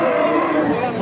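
Cattle lowing amid the steady hubbub of a crowded livestock market for cows and calves in Shahrixon, Andijan region; a dense, continuous din of animals and voices with no single moo standing out.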